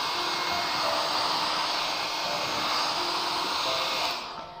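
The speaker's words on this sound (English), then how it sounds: "Then blow dry again." A hair dryer blows steadily on decoupage varnish coating a PVC notebook, a loud continuous whooshing hum that runs for several seconds before winding down at the end.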